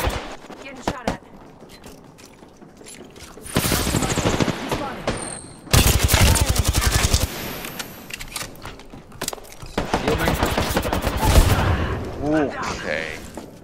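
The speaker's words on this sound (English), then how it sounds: "Getting shot at." Bursts of automatic gunfire from an Apex Legends match with Bangalore, loud rattling volleys in several waves separated by quieter stretches, with players talking over the action.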